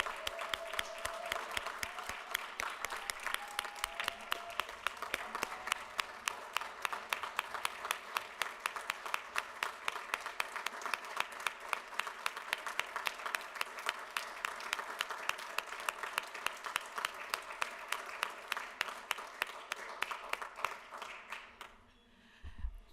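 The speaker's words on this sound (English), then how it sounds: "Please join me in applause for Vice Chair Namashina Burns." Audience at a county commission meeting applauding steadily in a dense, sustained round of clapping that carries on for about twenty seconds before tapering off at the end.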